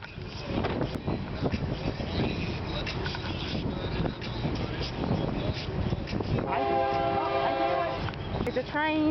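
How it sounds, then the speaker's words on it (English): Train passing a railroad crossing, a loud continuous rumble of rail cars rolling close by, with a long steady horn blast near the end and a brief second tone at the very end. "It's a train."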